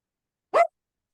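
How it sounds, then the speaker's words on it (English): One short, sharp bark, close and alone, surrounded by silence. "Dad's trying to get her to stop barking"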